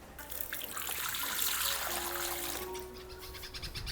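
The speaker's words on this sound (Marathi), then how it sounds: "पहिल्यांदा आपल्याला हे बटाटे चांगले असे धुवून घ्यायचे" Potatoes are rinsed in water, with steady close splashing and trickling running through the clip.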